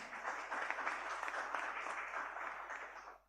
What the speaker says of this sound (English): please give Pak Herlambang applause.